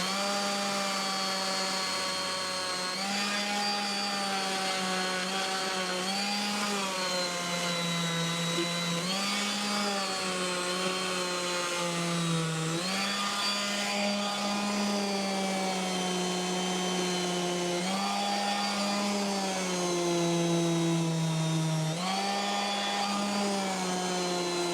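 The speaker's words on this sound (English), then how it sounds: "let's try sanding it down" Sanding a plumbing part for a laundry room, with a steady loud whining motor drone and repeated pitch dips as the part is pressed against the abrasive, continuous for the full stretch with no talk.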